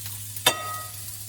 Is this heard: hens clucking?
no